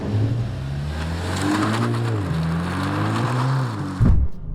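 A Volkswagen Golf GTI TCR engine pulls with a deep, raspy drone while driving, its pitch rising and falling in steady sweeps, fairly loud and close, with no talk over it.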